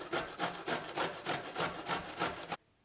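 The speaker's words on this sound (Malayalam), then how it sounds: "ക്യാബേജ് കട്ട് ചെയ്തെടുത്തിട്ടുണ്ട്." Cabbage being cut into small pieces on a grater for vegetable vada, a steady rhythmic rasping of about eight strokes, close and fairly loud, stopping abruptly at the end.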